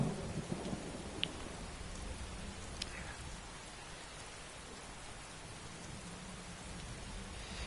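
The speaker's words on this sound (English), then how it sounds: "Sounds of thunder brings no comfort to our character." Rain and thunder ambience from the video game Skyrim: a steady wash of falling rain throughout, with a couple of brief crackles of thunder early on, no talk.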